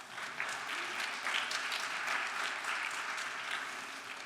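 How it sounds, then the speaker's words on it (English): Sustained applause from an audience at a university honors convocation and awards ceremony, steady dense clapping filling the hall at moderate level without a break. "y'all should clap for that"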